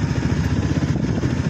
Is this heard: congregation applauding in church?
no